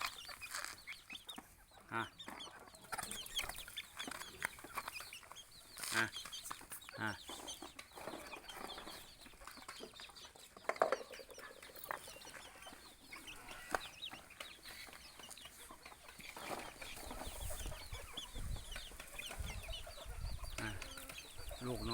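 Wild junglefowl call faintly from a natural forest, with distant clucks and crowing scattered over a quiet outdoor background.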